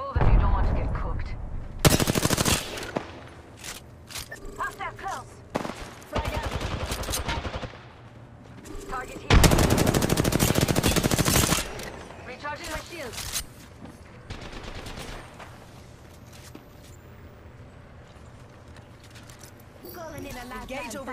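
Gunfire in the video game Apex Legends comes in several loud, rapid automatic bursts with gaps between, mixed with game effects and voices talking over the action.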